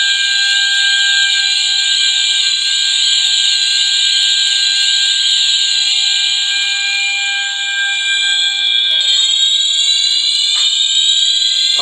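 Loud, steady electronic fire alarm tone blaring continuously in a Roblox game during an alarm inspection, with a slow chime pattern and a slight pitch shift near the end.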